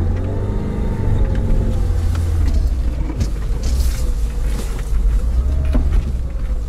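A Lada 4x4 (Niva) engine drones steadily at low speed through snow with muffled crunching and rumbling from the wheels, close and continuous, no voices.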